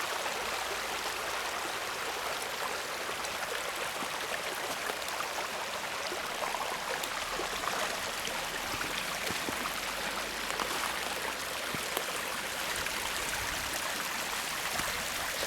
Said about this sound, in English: And the water's coming right by.